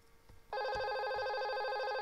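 A Cisco IP desk telephone starts ringing about half a second in, a loud, steady electronic ring that continues to the end, preceded by a few soft handling knocks.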